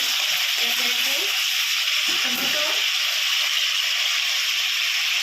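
Chicken pieces fry in hot oil in a kadai, giving a loud, constant bubbling sizzle that fills the whole stretch while a person speaks quietly underneath.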